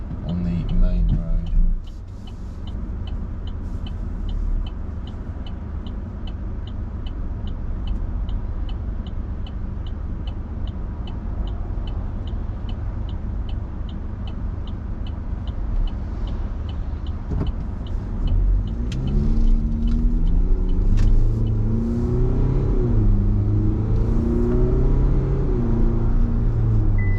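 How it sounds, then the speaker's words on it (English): A 2021 LDV D90 twin-turbo diesel SUV cruising on a main road, with a steady engine and road drone heard from inside the cabin throughout, under occasional speech. "the twin turbo or bi-turbo diesel, it's not too bad. It's no slouch"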